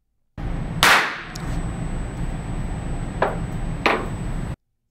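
A few small drops of nitroglycerin on an anvil detonate under a hammer blow: one sharp, close crack, followed later by two fainter sharp pops against a quiet background, with no voices.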